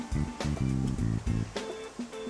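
Beer from the Balakovo brewery is poured from a bottle into a glass in a close, gurgling splash, with a brief lull before the stream picks up again.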